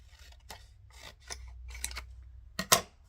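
Scissors trim sheets of paper for a small paper and lace craft bundle, making a series of close, crisp snips and slicing cuts in a quiet room, with a sharper pair of cuts at the end.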